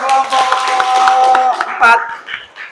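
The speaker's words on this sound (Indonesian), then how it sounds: "Oke, tepuk tangan dulu untuk kelompok" Students in a classroom applaud a presenting group with a short burst of clapping that swells and then fades within a few seconds, with voices mixed in.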